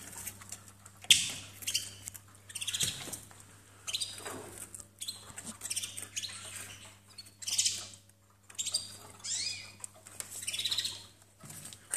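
Gloster Fancy canaries chirp and sing in short, bright bursts separated by brief pauses, over a low steady hum.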